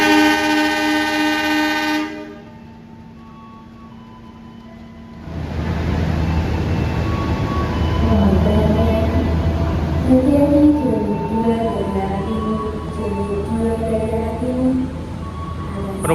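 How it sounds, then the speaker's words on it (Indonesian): A vintage locomotive hauling a passenger train pulls into platform 5 at a station, a steady low rumble building after a brief horn-like tone at the start and a quiet pause, with faint tonal squeals over the rolling noise. "Tiba-tiba ada kereta masuk jalur 5."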